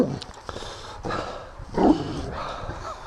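A playful dog in a vegetable garden during a carrot harvest lets out close, rumbling growls in short bursts, several throaty rises and falls with a louder growl near the middle.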